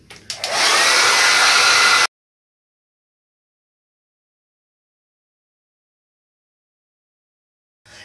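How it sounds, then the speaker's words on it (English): A handheld blow dryer set to hot and high blows loud and close for about two seconds, then cuts off into silence. "you want to take the blow dryer, you want to set it to hot and high, and take all of this hair and just quickly blow dry it"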